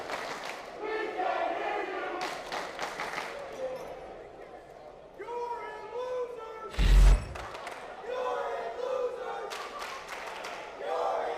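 Rival fan bases in an esports arena crowd at a Call of Duty OpTic Major elimination match chant and yell back and forth, a sustained roar of voices with rhythmic shouts and one loud thump midway.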